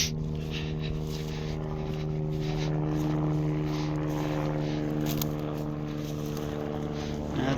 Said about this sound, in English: The heli coming straight over me.